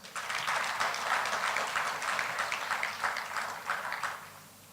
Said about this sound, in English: You owe yourself a big round of applause